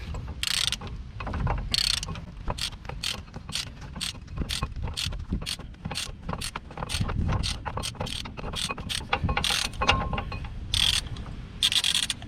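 A hand ratchet undoes the caliper carrier bolts on a Peugeot 407, giving a long run of close, rapid clicking strokes in uneven bursts with brief pauses.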